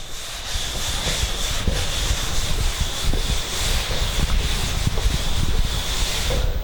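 Writing being rubbed off a board during a physics lesson: a continuous close, hissy rubbing and scrubbing sound of back-and-forth strokes that lasts throughout, with no speech.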